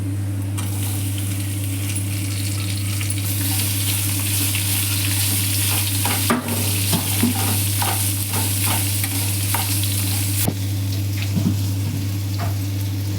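Small pieces of chopped raw mango fry in a pan, giving a steady close sizzle under a constant low hum, with scattered scraping clicks as a spoon stirs them.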